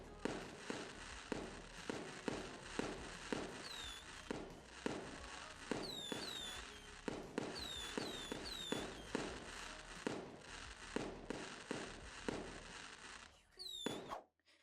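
Rapid, continuous fireworks show in a VRChat world, with a dense barrage of launches and crackling bursts, many overlapping pops, and occasional high whistles, fairly loud throughout before a brief pause near the end.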